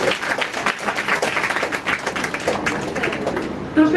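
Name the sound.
audience clapping at Janmashtami celebration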